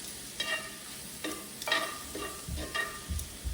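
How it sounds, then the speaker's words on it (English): Chicken thighs sautéing in a pan give off a steady close sizzle, with bursts of stirring and scraping recurring every second or so and no talk. "And as we saute those"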